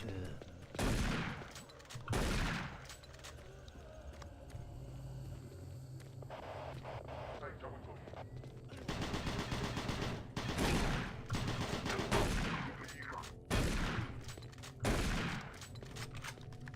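Bursts of machine gun fire from a video game shooter, several loud volleys spaced across the stretch with quieter game ambience and rumble between them.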